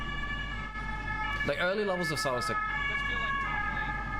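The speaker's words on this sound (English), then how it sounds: "That's the ambulance for Silas." An ambulance siren sound effect wails steadily in an esports match broadcast, its tone holding constant under a caster talking over it.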